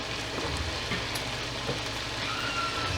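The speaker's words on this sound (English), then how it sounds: "the garlic saute in that butter, and once it's pretty sauteed" Garlic sautéing in butter in a pan, a steady close sizzle with light crackle and faint stirring.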